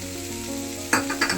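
Chicken, carrot and capsicum masala fries in a pan for a chicken singara filling: a close, steady sizzle, then a brief burst of louder crackling as it is stirred.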